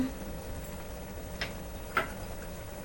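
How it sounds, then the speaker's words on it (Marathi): Cashews and raisins frying in a pan, a faint, even sizzle with two soft scraping stirs partway through. "काजू परतून घ्यायचं व्यवस्थित"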